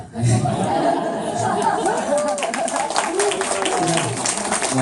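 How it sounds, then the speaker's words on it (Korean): Audience applause at a lecture on skincare products, moderate clapping spread through the room with crowd chatter and light laughter mixed in throughout. "제가 박수 받을 일이 아니고"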